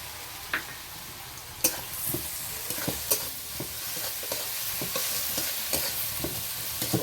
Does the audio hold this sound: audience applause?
no